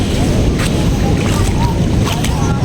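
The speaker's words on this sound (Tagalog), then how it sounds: "malakas yung agos ng tubig ng baha" A strong current of flood water at a beach resort in Claveria, Cagayan Valley rushes loudly and without a break, a dense, close roar with wind buffeting the microphone.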